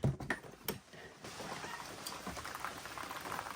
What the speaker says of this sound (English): let's see how bad it's raining outside.